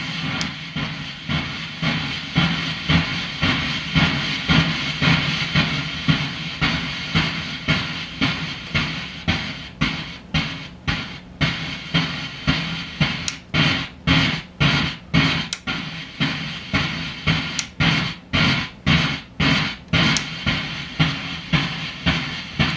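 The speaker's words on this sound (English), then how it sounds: "it can be used as just a digital noise source as well" Steady hissing digital noise from a BMC73 dual digital noise synthesizer module that later breaks into rhythmic bursts, each cutting off with a short decay, repeating regularly near the end.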